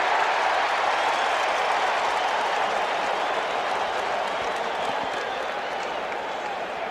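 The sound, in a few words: festive crowd cheering at Shea Stadium World Series game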